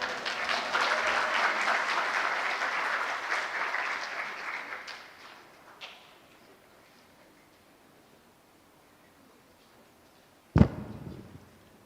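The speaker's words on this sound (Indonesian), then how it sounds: "Sekali lagi kita beri aplaus kepada Prof. Mahfud" An audience applauds Prof. Mahfud at a public event, dense clapping that fades over about six seconds, followed by near silence and one sharp knock near the end.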